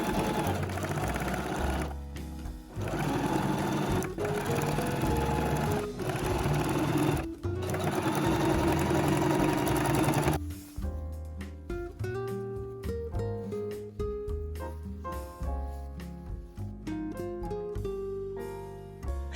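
A sewing machine stitches elastic flat onto stretched fabric for high-waisted shorts, running in loud, close, continuous bursts of rapid mechanical chatter that change pace, with faint background music.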